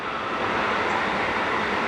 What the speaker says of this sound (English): and trains going by